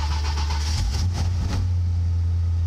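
A Lincoln Mark VII car engine fires up and settles into a steady low idle, a deep continuous hum that carries on alone once the start fades.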